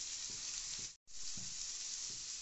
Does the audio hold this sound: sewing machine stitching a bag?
no